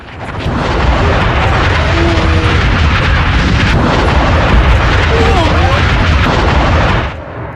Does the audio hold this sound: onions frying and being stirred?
no